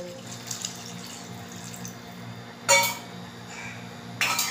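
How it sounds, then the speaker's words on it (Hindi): Water is poured from a tap into a vessel of cut mangoes for a homemade mango pickle, a steady running trickle with two short louder splashes and clinks near the end. "पानी डाल दिया है।"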